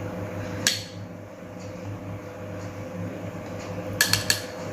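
A teaspoon and kitchenware clink as food whitener is added to a donut glaze, with one sharp clink early and a quick cluster of light metallic taps near the end over a steady low hum.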